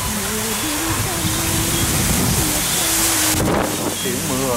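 Heavy rain with strong gusting wind in a rural village in southwestern Vietnam, a dense continuous roar close to the microphone with wind buffeting, while a voice and some tonal sounds carry faintly underneath.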